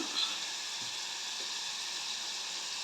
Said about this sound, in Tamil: அதையும் நல்லா வதக்குறோம்